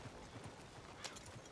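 Faint, quick horse hoof clip-clops in the game RedM patter in a light rhythm beneath a low background hum, with a brief sharp sound near the middle.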